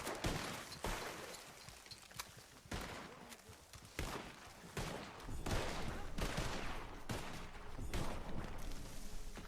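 Video game gunfire, with repeated sharp shots and short bursts scattered across the clip, fairly faint and distant-sounding over low background noise.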